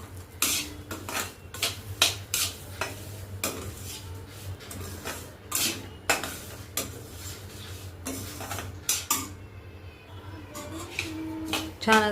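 Semolina and banana being roasted in ghee in a pan for sheera, with irregular metal clinks and scrapes of a spoon against the pan over a low sizzle.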